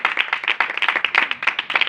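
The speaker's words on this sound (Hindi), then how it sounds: "यीशु मसीह के कलाम के एक बार जोरदार ताली, ठंडिया नहीं, जोरदार।" A church congregation claps loudly and steadily together during a worship service, a dense, continuous burst of close applause with no voices over it.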